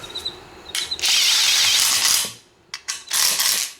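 A power drill bores a hole for a CDI mount on a Yamaha Raptor 700R ATV, the loud whirring running in two long bursts with short starts and a brief pause between them.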